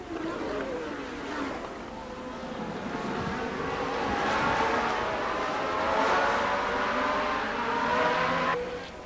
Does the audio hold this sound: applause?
no